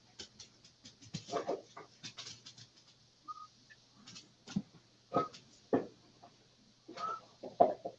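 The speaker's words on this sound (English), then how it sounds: "Freaking dog's going bananas." A dog whimpers and yelps excitedly in short, high bursts with gaps between them, close by, over a faint steady background hum.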